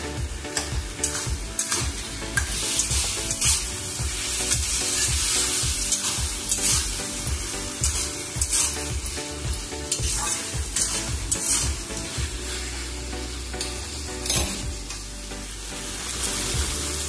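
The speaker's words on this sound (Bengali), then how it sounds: "ভালো করে কষিয়ে নিলে আলুটাও সেদ্ধ হয়ে আসবে।" Potatoes with a splash of water are stir-fried in a pan, giving a steady close sizzle broken by frequent rhythmic scraping stirs throughout, with no speech.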